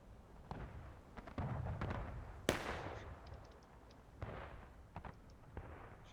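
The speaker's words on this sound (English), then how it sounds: "there's a good artillery shot" Artillery shells bursting in a Civil War video game battle: scattered distant thumps and crackles, then one sharp loud blast at the midpoint that rolls off slowly, with further faint booms and pops trailing after it.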